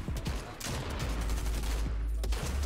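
Gunfire in the Fortnite video game: rapid repeated shots with heavy low-end booms, loud and continuous, alongside a few sharp cracks.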